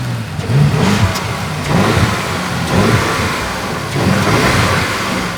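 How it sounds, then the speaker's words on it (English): Two V8 SUVs, an Audi RS Q8 with a twin-turbo V8 and a Range Rover Sport SV, drag racing side by side; loud engine roar rising and falling in repeated revving surges with no talk. "let's start out the battle with the old school SUVs in an old school two-up head-to-head drag race"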